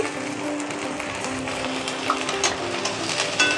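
Ginger-garlic paste fries in hot oil in a pan with browned onions, a steady close sizzle with faint stirring scrapes, no voices.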